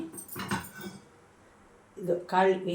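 Metal clanks and clatters of a pressure cooker being set on a stove in a kitchen, two bursts separated by a quiet pause, close by.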